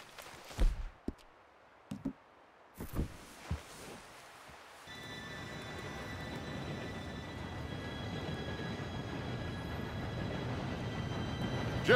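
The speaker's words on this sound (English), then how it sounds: "Train should be here any minute now." A train approaches in the Red Dead Redemption 2 video game: a few scattered footsteps and rustles first, then a steady, swelling rumble of rolling wheels that grows louder to the end.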